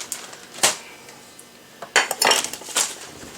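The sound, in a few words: mixing cookie dough in a bowl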